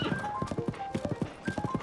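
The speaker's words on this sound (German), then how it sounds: "Mit den Pferden kann man an irgendwelchen Gegnern besser vorbei." Galloping horse in Zelda: Tears of the Kingdom, hooves drumming in quick regular groups of beats, fairly close and moderately loud over soft game music tones, with no talking.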